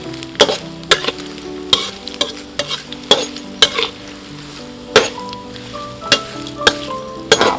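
Glass fish deep-frying with herbs in hot oil, a steady bubbling sizzle broken by sharp clatters and scrapes of a utensil stirring the pan at irregular intervals, close and fairly loud with no talking.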